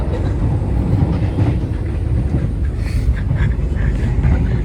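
An Indonesian economy-class Kerakyatan passenger train rolls along the rails, heard from inside as a loud continuous low rumble with faint rattles and clicks and no talk.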